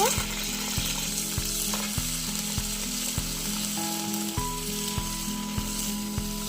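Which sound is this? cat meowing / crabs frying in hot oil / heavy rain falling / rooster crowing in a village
crabs frying in hot oil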